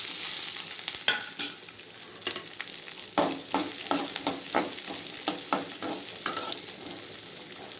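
Onions and chillies fry in mustard oil with a steady crackling sizzle, broken by repeated scraping stirs of a spatula, close and moderately quiet with no talk.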